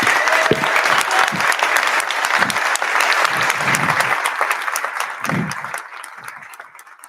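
A conference audience applauds loudly for Pierre Cossette, a thick, sustained roar of clapping close up that fades away over the final seconds, with a few voices faintly under it.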